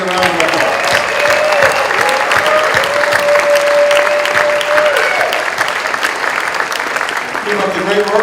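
Loud, full applause from a crowd at a press club awards night fills the room without a break, many hands clapping densely with voices and a cheer or two mixed in.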